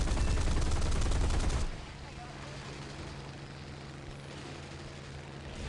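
Gunfire in the War Thunder video game: a loud dense burst of rapid shots for about two seconds, then a steady engine-like rumble with faint distant firing.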